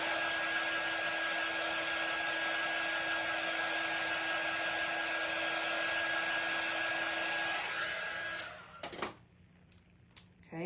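A hair dryer drying craft paint runs as a steady, close whirring blow with a high tonal whine, then switches off near the end, leaving quieter room sound.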